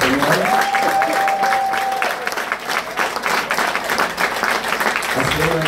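A church congregation in Paris applauds and cheers for the Lord, with dense, steady clapping throughout and a voice speaking over the crowd.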